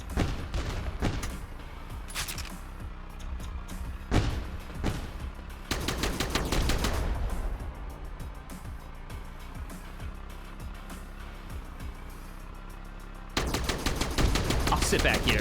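Twin AC-20 rapid-fire autocannons in the mech game Mech Havoc let loose in several dense, loud bursts of rapid fire, separated by lulls of rumbling engine and mechanical noise, with a voice talking now and then.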